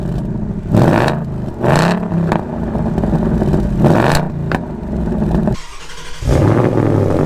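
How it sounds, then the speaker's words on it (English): A Ford Mustang engine in track mode revs hard and drops back repeatedly, its exhaust roaring with sharp crackles and pops between throttle blips, loud and close. "I like that in track mode that I get cracks and pops from my exhaust."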